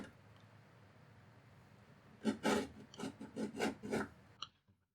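Short rasping strokes, like a file or blade working back and forth, cut a notch into the trim of an old tub. About half a dozen close scraping passes come in a quick burst after a quiet start, then stop.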